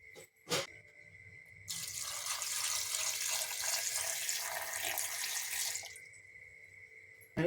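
Water pouring steadily from a tap into a container while making a banana shake, a continuous splashing hiss lasting several seconds between brief knocks, close and fairly quiet.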